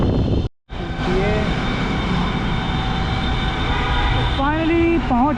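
A metro train at a station gives a loud, steady rumble and whine throughout, with a brief dropout near the start and a voice talking over it toward the end.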